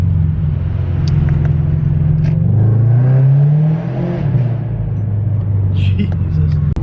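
Scion FR-S with a louder aftermarket exhaust revs up and settles back, a heavy low rumble rising in pitch and falling, loud and close, with a person briefly talking near the end.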